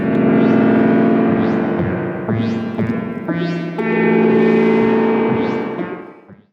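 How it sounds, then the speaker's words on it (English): A twangy spring reverb smears sustained guitar-like tones, with metallic splashy echoes and boingy sweeps trailing each note before fading out. "the spring reverb sounds god-awful, but I guess that's just what spring reverb sounds like"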